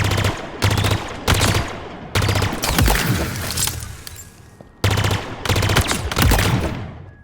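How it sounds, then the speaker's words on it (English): Pulse carbine from Halo Infinite firing in several loud, close bursts of rapid energy shots, each volley separated by short pauses, with a sustained stretch of fire in the middle. "Followed up by the Pulse carbine."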